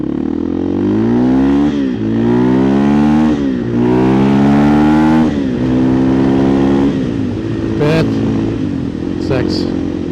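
A 2024 KTM EXC-F 500 TPI dirt bike fitted with an FMF muffler revs loudly and close, climbing through several rising throttle blips that fall back to idle, and a voice comes in briefly near the end.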